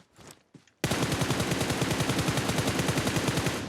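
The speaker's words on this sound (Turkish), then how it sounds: "Millet birbirini vuruyor." Loud, rapid automatic gunfire in the game PUBG Mobile, a sustained burst of evenly spaced shots following a couple of brief clicks.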